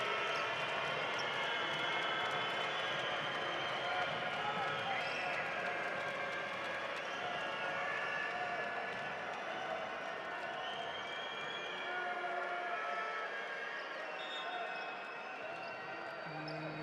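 Arena crowd noise at a EuroCup Women basketball semi-final, a steady loud roar of voices with scattered ball bounces and claps running throughout.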